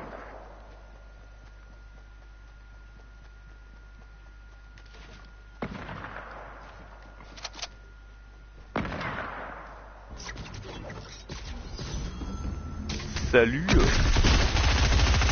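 Gunfire from another player in a video game, heard as scattered sharp shots in short bursts that grow denser toward the end, with a brief greeting spoken over it.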